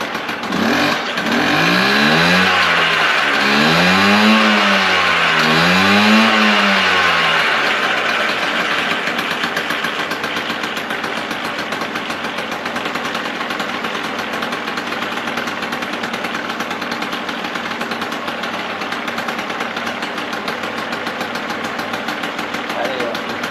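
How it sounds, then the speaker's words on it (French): An old restored engine cranks and catches, its note swelling and dipping in a few rev surges before settling into a steady, loud, rough idle that drones on for many seconds. "on va essayer de la démarrer avec eh bien à présent le réservoir lui-même"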